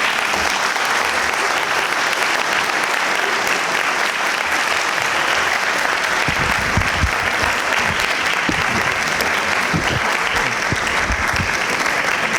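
Steady, dense applause from a large crowd fills the whole stretch, with louder individual claps standing out near the end.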